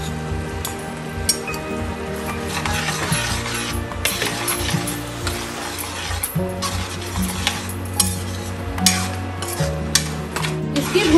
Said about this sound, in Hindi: देसी घी डालने के बाद बहुत अच्छे से इसको भूनना है।